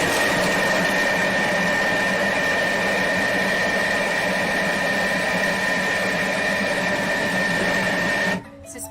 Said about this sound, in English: I love how quickly grating happens in a Thermomix.